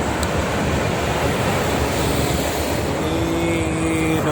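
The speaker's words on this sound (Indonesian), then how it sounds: "Dominasi oleh kendaraan truk pagi. Ramai sekali ini untuk angkatan pagi." Trucks and buses streaming past on the Jakarta–Cikampek toll road near the kilometre 47 rest area in the morning, a heavy continuous traffic roar with a rising engine whine toward the end.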